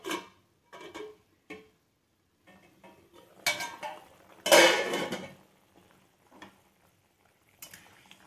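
A lid set onto a cooking pot of fish curry, with metallic clanks and clinks of pot and utensils in short separate bursts close by, the loudest around the middle, otherwise quiet.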